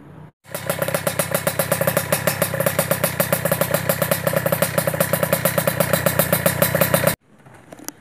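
A Kawasaki Ninja two-stroke motorcycle idles close by with a rapid, even, rattling putter that stays loud and steady for several seconds before cutting off abruptly, with no talk.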